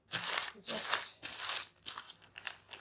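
Parchment paper crinkles and rustles in a few close, loud bursts as it is folded over a soft strawberry and fresh cream Swiss roll.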